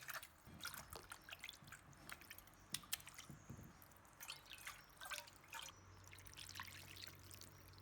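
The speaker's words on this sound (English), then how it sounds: "Rinse the pan with water." Water rinsing a greasy pan after scrubbing out rotten tomato pieces, faint close drips, splashes and trickles in irregular bursts, with no voices.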